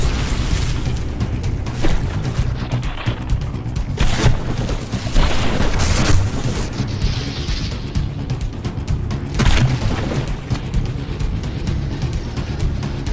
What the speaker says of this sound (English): that gun just got blown to pieces